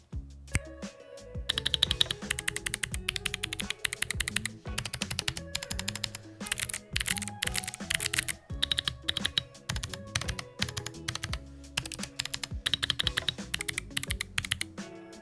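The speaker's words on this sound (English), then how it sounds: "honestly, I feel like I type even faster with these switches" Rapid, close typing on a mechanical keyboard with tactile switches and dual Mac and Windows keys, a dense run of crisp clicks and clacks lasting throughout with no talking.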